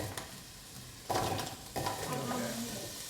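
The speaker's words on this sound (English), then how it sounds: "Do you want to put the onion in, Sunny?" An onion tipped into a hot pan starts frying, and a bright steady sizzle rises suddenly and holds close and moderately loud, with a brief stir partway through.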